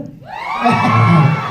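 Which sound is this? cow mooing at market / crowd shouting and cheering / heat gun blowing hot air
crowd shouting and cheering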